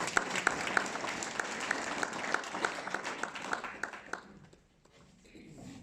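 An audience at a bullfighting fair presentation applauds in a dense, even patter of many hands with a few sharp claps standing out, fading away after about four seconds into quiet.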